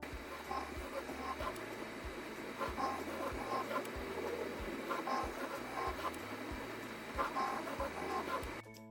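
Yamaha SCARA robot in torque mode pressing down on a scale, giving a faint steady machine hum with regular low clicks and pulses repeating throughout, quiet and continuous.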